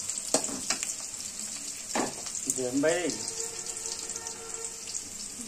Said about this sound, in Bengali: মরিচটা লাল লাল হওয়া পর্যন্ত ভাজবো